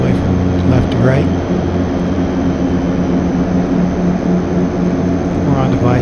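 Aircraft engines drone steadily and loudly throughout, a continuous jet-and-propeller hum from an airplane on a night approach in the flight simulator FSX, with a voice briefly audible over it.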